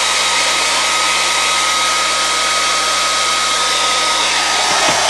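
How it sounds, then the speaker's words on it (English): A hair dryer blowing continuously at close range while puppet teeth are being made, a loud, steady whirring rush with a constant whine and no talk. "That's the one danger with using a hairdryer with stuff that doesn't weigh much."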